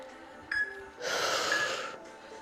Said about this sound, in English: Even if it means you have to do an exaggerated breath.